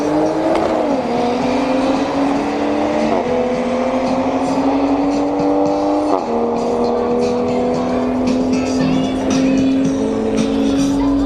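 A Toyota A90 Supra and a Genesis G70 drag racing at a motorsports park, engines droning loudly and steadily with rising pitch through gear changes, heard continuously from nearby.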